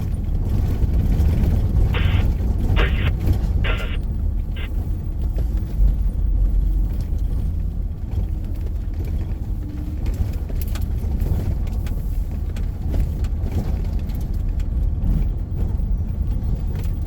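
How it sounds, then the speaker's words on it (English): Road traffic near a wildfire control line on Middle Control Road: a continuous low engine rumble from passing vehicles, heavy and steady throughout, with a few brief beeps early on and no voices. "You guys hear the traffic?"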